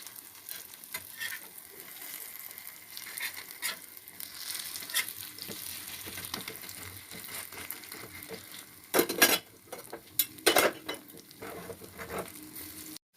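Soft, steady frying sizzle of a paratha on a pan, with occasional louder scrapes and clatters as it is flipped with two spatulas near the end.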